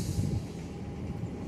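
A train pushing runaway rail cars, a steady low rumble and rolling clatter of heavy wagons with a faint hiss, continuous and fairly close.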